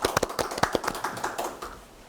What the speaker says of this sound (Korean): 다시 한번 박수로 한번 부탁드리겠습니다